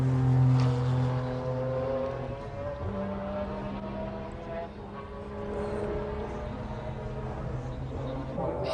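Race car engines droning steadily through the night at the 1996 Le Mans 24 Hours, with sustained tonal whine that shifts pitch as cars run on, a continuous loud engine bed without any speech.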